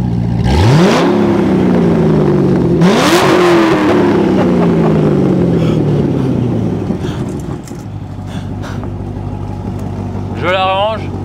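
A Corvette's naturally aspirated V8 revs hard twice, each time rising sharply and then falling back slowly, before settling to a steady idle. The engine is close and loud, and a voice briefly speaks near the end.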